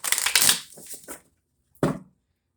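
Tarot cards being shuffled: a rapid riffling burst at first, a few softer card shifts, then one sharp final slap of the deck after a brief pause.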